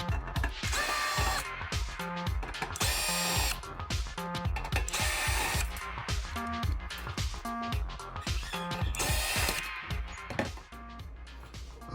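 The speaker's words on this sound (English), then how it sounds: "now we're gonna remove 4 T15 screws" A power driver with a T15 bit removes four screws from the fan assembly of a Ninja Foodi Deluxe, giving repeated whirring and ratcheting bursts separated by brief pauses, close and fairly quiet.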